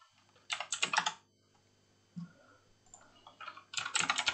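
Typing on a computer keyboard comes in three close bursts of rapid key clicks separated by short pauses, with no speech.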